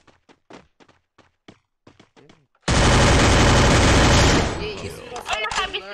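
Sustained automatic gunfire in a shooting video game bursts in loud and dense after a stretch of quiet taps, then breaks into scattered shots under a voice talking near the end.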